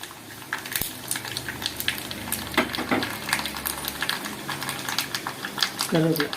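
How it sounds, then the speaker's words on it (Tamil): Tempering for pumpkin sambar crackles and sizzles in hot oil, with dense popping spatters and stirring clatter running throughout at moderate, close volume, a brief voice cutting in near the end. "இப்போ நல்லா பொரியுது."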